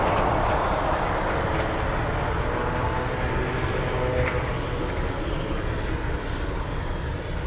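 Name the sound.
Delta Airlines 757 airliner flying in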